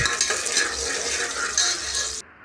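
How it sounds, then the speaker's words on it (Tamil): Green chillies with cumin, cardamom, cloves and cinnamon sautéing in a pan: close, continuous sizzling and crackling frying with occasional spoon scrapes, ending abruptly. "நாலு பச்சை மிளகாய் அதையும் சேர்த்து நல்லா வதக்கணும்"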